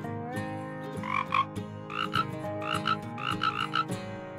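Cartoon frogs in an animated children's scripture lesson croak in a run of short, bright bursts over a steady tonal backdrop, fairly loud and close, with no talking.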